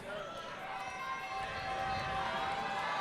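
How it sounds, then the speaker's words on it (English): Crowd noise swelling at a men's college basketball game between WWU and MSU Billings as a player steps to the free-throw line, a steady broad roar filling the arena with a commentator talking over it. "The crowd's getting loud though"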